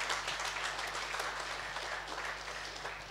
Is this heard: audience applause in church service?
yes